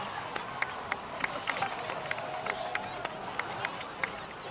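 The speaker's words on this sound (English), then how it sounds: "please give another round of applause for them" A crowd in the video game Genshin Impact claps and cheers in a steady wash, with sharp regular clicks or footsteps cutting through at intervals.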